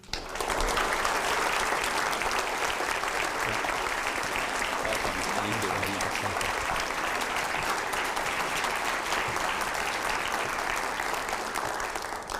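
An audience claps steadily to welcome a speaker to the stage, a dense, sustained applause lasting about twelve seconds at an even level without fading.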